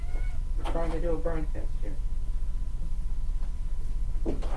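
A house cat meows indoors in a few short, tonal calls, close and clear, mixed with someone talking over a steady background hum.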